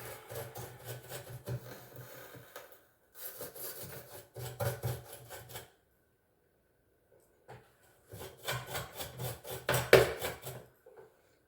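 Hand scraping of carbon or calcium buildup off a part, heard as three bursts of close, gritty back-and-forth rasping strokes separated by brief silences.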